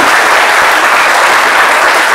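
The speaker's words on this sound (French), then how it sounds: "et ça, je pense que ça s'applaudit" A studio audience at a midday television show bursts into loud, dense applause, a continuous close roar of many hands clapping with no voices standing out.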